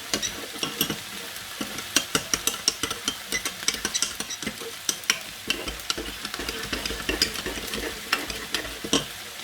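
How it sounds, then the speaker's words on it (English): A mixture with hoisin spice stirred in a pan while it fries, giving sharp, rapid clinks and scrapes over a continuous sizzle, close and fairly loud, no voices. "Mix it all together."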